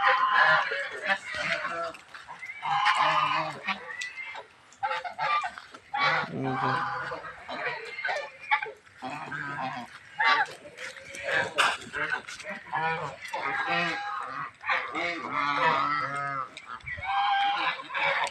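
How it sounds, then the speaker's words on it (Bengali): Geese on a small goose farm honk and call repeatedly and loudly throughout, with a dense mix of overlapping calls, while a person speaks briefly over the flock. "আমার একটা ছোট্ট রাজহাঁসের খামার আছে। সেই খামারের হাঁসগুলো"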